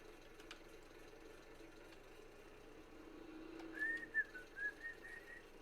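A person whistles a short tune, a few faint rising notes near the end over the low drone of farm machinery in Farming Simulator, close and alone without talk.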